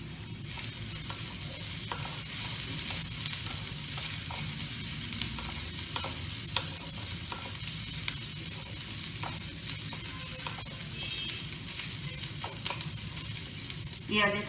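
Onions sizzle and fry in a pan for a chicken pie, a constant crackling hiss with occasional stirring scrapes and clinks, close and moderately loud with no talk.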